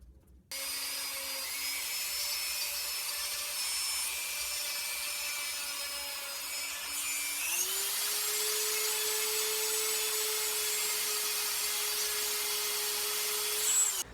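A steady high whine of a rotary grinding tool working down plastic on a custom action figure, close and continuous, with the motor pitch rising partway through and no talking.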